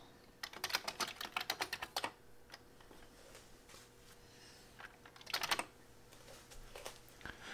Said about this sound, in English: I'm hitting both buttons to generate the autoswap.gen.